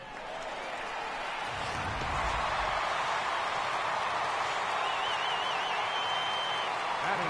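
The home crowd in the MLB 18 The Show baseball video game, Astros vs Yankees, roars after a home run, a steady dense cheer swelling after two seconds and holding loud.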